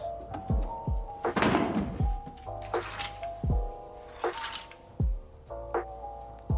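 Knocking on a door in a scene from the TV show Peaky Blinders, several sharp wooden thumps spaced across the passage with a sustained musical tone running underneath.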